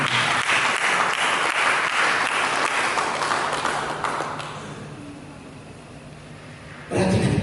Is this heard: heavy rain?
no